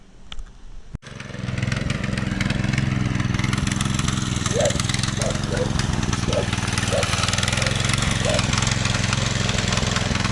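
Rare Honda motorcycle engine catches after a brief start and then runs continuously close by, a loud, steady rumbling idle with a rapid even pulse throughout.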